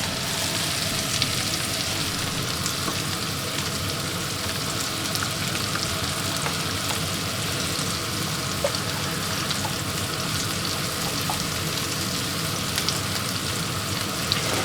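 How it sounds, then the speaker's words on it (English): Peanut red curry sauce with peanut butter and red curry paste boiling in a pan, a steady dense bubbling sizzle with faint pops, close and even throughout with no talk. "bring it up to a boil again and it's going to boil for 2 minutes"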